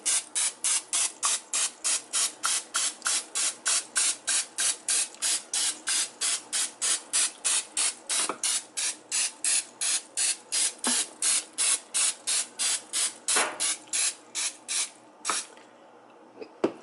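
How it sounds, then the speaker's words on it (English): A long run of short butter cooking spray bursts into a pan, about forty quick hissing puffs in steady rhythm, close and loud, ending with a few scattered clicks. "then we're going to spray it with some butter spray."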